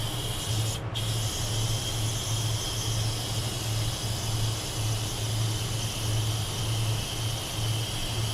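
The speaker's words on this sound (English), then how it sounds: "I'm trying to talk while I do this thing" Steady hiss of an aerosol spray can held close, spraying candy paint on an AMT Coke truck model, continuous with a brief pause near the start, over a low pulsing hum.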